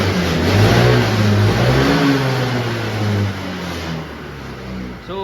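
A Honda ADV 160 scooter engine, its throttle body freshly cleaned, revs loud and close, climbing and falling steadily in pitch across the throttle blips.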